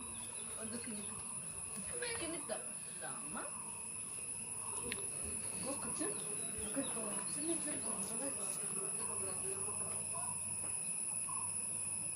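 Birds call faintly from the Yercaud hills among a steady insect and cricket drone, scattered short chirps over a continuous high whine, with no talk.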